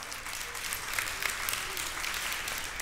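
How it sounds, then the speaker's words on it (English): An audience applauds steadily, a dense patter of clapping at moderate volume with no voices over it. "Yeah, you can applaud at that."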